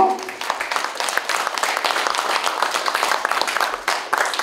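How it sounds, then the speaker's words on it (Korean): Crowd applause at a Korean culture and arts awards ceremony during a trophy and bouquet presentation, a dense, lively clapping that stays strong throughout with a brief voice at the very start. "박수 주십시오"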